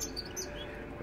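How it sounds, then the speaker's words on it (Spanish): A pet songbird, a canary or goldfinch, chirping faintly in short high notes over a steady indoor hum, with no voices. "Que no para de cantar el tío. Observad. Qué chulada de pájaro."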